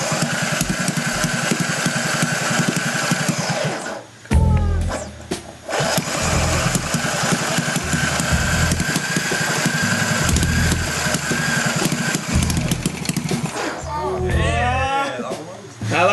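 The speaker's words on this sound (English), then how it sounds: "the engine is on the verge of starting" A small supermileage vehicle engine, recently repaired after broken bolts, cranks in several bursts and sputters into rough running, heard up close amid loud workshop noise and people talking.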